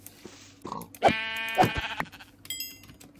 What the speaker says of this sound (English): Here's one sheep.